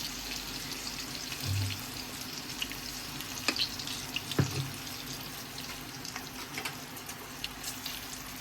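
Garlic and red chili masala fry in a pan, giving a soft, steady sizzle with a few faint clicks and taps over low background hum.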